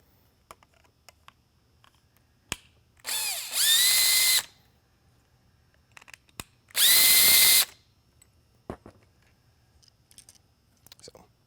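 A small power driver unscrews little Torx screws from a Whelen Responder Linear Super-LED mini lightbar, whirring in two short bursts about a second long each, separated by quiet handling clicks and taps close by.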